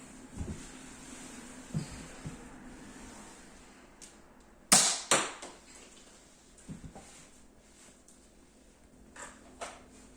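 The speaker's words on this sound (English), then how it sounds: "we're actually going to test the firepower of the Nerf guns" Small Nerf toy blasters fire a few quick snapping pops and whooshes, the loudest pair close together midway, with fainter clicks scattered around in an otherwise quiet room.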